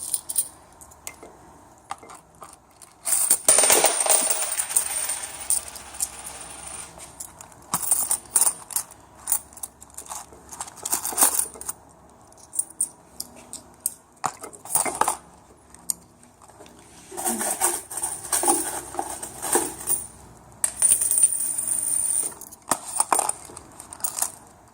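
Coins dropping one after another onto a shell for a science project, giving bursts of bright metallic clinks and jangles in clusters with pauses between them, nearby and fairly loud, with no talking.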